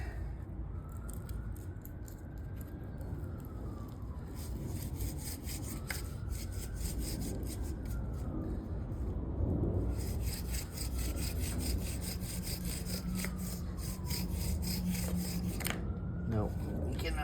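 A bow drill grinds a yucca spindle against a cottonwood hearth with a steady back-and-forth rasping rhythm and a squeak rising and falling on each stroke, close and continuous.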